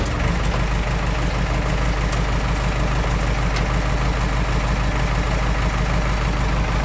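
A JCB 3DX backhoe loader engine idling, a steady, loud, close diesel rumble that holds even throughout with no voices.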